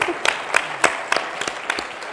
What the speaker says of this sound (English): We'll clap, yes.